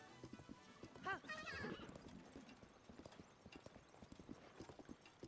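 Horse hooves clip-clop at a steady walking pace in Zelda: Tears of the Kingdom, soft and fairly distant under game ambience, with a brief whinny early on and a person talking over it.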